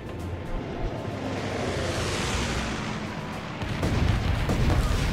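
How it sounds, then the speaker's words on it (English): Rumbling, booming explosions from a bombing run in the GUNS UP! strategy game, a dense continuous barrage of blasts that swells louder toward the end, with no talking. "let's use this bombing run too."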